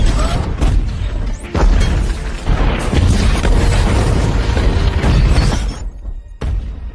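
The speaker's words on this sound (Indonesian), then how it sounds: "membombardir tempat tersebut dengan meriam, hingga Evelyn terkena ledakan" Loud rumbling booms and crashing blasts from a cannon bombardment rolling one after another, with debris-like clatter between the heavy explosions.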